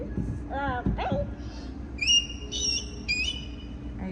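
Birds call nearby in bright, high whistled notes, a few repeated sustained calls after some brief chirps, with a person talking briefly at the start.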